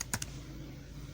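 Quick keystrokes on a computer keyboard while a file name is typed: a short burst of two or three crisp clicks at the start, then quiet room tone, close and fairly soft.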